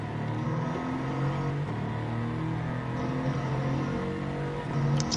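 A deep, rumbling race car engine roars steadily in Gran Turismo 7 at Daytona, rising and falling slightly as it revs, with no talk.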